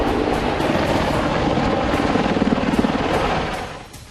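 A HAL Prachand, a 5.8-tonne twin-engine light combat helicopter, roars loudly with a steady rotor thump and engine whine that fades slightly at the end.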